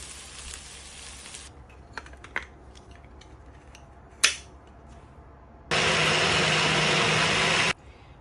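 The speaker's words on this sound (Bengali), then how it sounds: "এইবার আমি এই সবগুলো উপকরণকে ব্লেন্ডারে ব্লেন্ড করে নিব।" A kitchen blender whirs loudly for about two seconds near the end, a steady grinding buzz of curry spice ingredients for an Indian vegetable and egg curry, after quiet clicks and a sharp tap.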